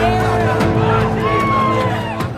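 A crowd of Pakistani opposition PMLN marchers chanting slogans for Nawaz Sharif on the road from Lahore to Islamabad, a dense steady roar of massed voices and shouts with rhythmic chant lines, loud and continuous throughout.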